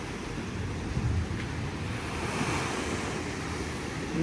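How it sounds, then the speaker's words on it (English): Steady roar of ocean surf at a waterfront hotel on Sint Maarten, with waves breaking and washing in, broad and continuous, with some wind noise over the microphone. "Listen to those waves crashing."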